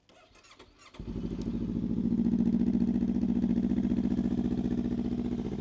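A Honda CBR400R motorcycle with about 14,000 km on it is started: a few faint clicks, then the engine catches after a second and settles into a steady, close idle.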